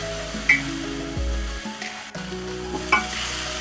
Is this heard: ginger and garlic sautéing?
yes